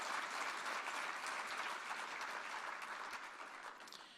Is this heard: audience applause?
yes